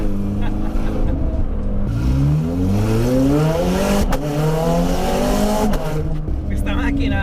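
A Ferrari 430 Scuderia's engine revs hard on a test drive, with rising and falling harmonic sweeps as it climbs through gears and shifts. The sound is loud, close and continuous for the whole stretch.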